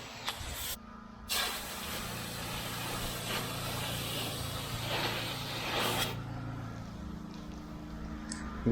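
A pressure washer sprays down a house wall caked with residual dirt and organic growth, giving a steady broad hiss that runs nearly throughout, with brief dips and surges as the stream shifts.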